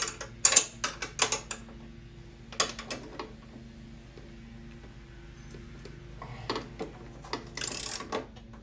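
Seat bracket bolts being loosened on a Snapper SPX riding lawn mower, with clusters of close metallic clicks and ratcheting bursts near the start, a quieter stretch in the middle, then a few more clicks and a rattle toward the end.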